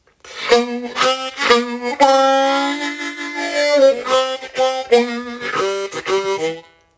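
A harmonica riff: short, punchy blown notes with percussive tongue pulses, one long sustained bend in the middle, then a quick choppy run to finish.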